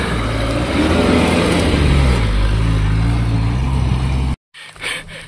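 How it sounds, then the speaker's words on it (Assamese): A Maruti Gypsy jeep climbs a steep hillside from far below, its engine straining and roaring loudly, then the sound cuts off abruptly near the end. "সেইখন একদম তলৰ পৰা গাড়ীখন উঠি আহিছে"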